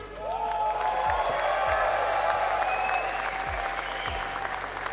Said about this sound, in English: hearing you guys cheer for us is literally, I don't know, it fuels me, fuels the team